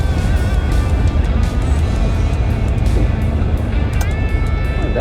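An old GMC Caballero, left sitting for over 20 years, drives along on a test drive with a steady loud engine drone and road rumble throughout, heard from inside the cab.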